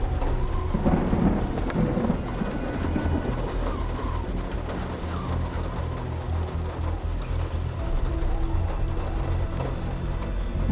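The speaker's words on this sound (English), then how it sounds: "it was like the sound of rain against the roof finally seemed to roar in" Steady rain drums on a roof, with rolling thunder rumbling through a continuous storm wash; occasional bird calls come through faintly, and no one speaks.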